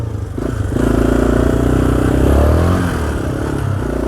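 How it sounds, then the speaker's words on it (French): A Yamaha Raptor 350 quad on damp asphalt pulls away with rising engine revs, loud and close for about three seconds before easing off. "Et là le quad va partir."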